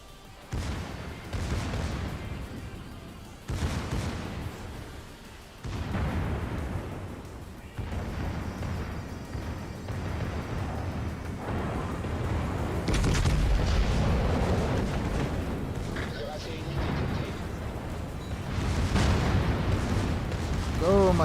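Secondary guns on a warship in World of Warships fire in repeated booming salvos, heavy blasts recurring every few seconds over a dense rumbling background, loud and close throughout.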